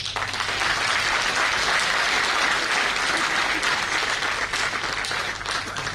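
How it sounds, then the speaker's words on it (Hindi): Crowd applause at an Aam Aadmi Party Rajasthan swearing-in ceremony, a sustained wash of many hands clapping at once, even and moderately loud for the whole stretch. "अपने लिए ताली बजाना"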